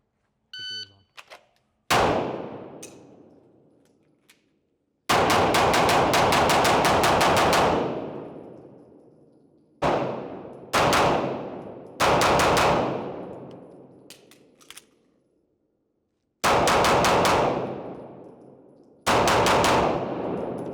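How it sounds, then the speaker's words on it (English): Rapid pistol fire at a police academy range rings out in loud, close bursts of shots separated by pauses for reloads and target transitions, each volley trailing a ringing echo, with a faint beep before the first shots. "I'm shooting really fast, and then I'm transitioning."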